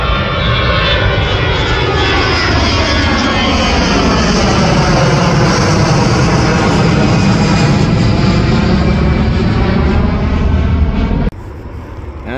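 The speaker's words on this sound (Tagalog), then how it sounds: "Yan, aeroplano na naman." An Air Canada airplane passes close at Pearson airport, a loud, sustained engine roar with sweeping tonal shifts as it flies by, dropping off suddenly near the end.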